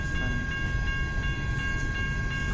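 Freight cars of CN train B731 heading west through Kimball Township keep rolling by close, a heavy steady roar with rhythmic clicking and a faint high squeal, no talk.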